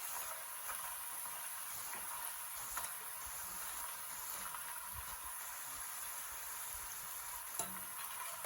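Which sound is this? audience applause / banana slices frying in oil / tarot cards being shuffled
banana slices frying in oil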